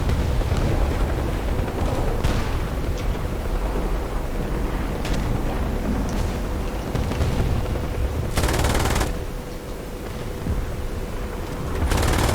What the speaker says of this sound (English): So the machine gun on this tank is an MG3.